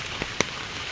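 Steady rain patters on surfaces with a continuous soft hiss, punctuated by a few sharper droplet ticks.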